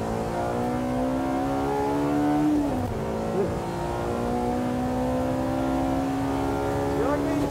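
Honda race cars, a Civic closing on a City, roar steadily around a track. The engine note climbs, drops through a gear change and climbs again, under excited commentary.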